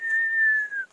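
A person on a mountain hike whistles a single clear, steady note lasting nearly a second, close and loud, gently sliding down in pitch before stopping.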